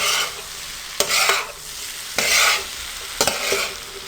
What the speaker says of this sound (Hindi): आपने सिर्फ 1 मिनट के लिए इसको फ्राई करना है।